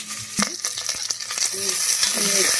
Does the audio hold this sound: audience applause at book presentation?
no